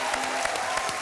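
A television studio audience claps on a game show, a dense, even burst of applause heard close and loud for a brief moment without pause.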